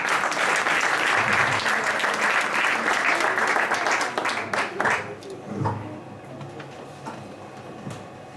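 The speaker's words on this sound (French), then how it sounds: "Betty, qu'on applaudit bien fort." Loud audience applause greets singer Betty at a Valentine's Day show, a dense wash of clapping that fades after about five seconds into scattered claps and murmuring voices.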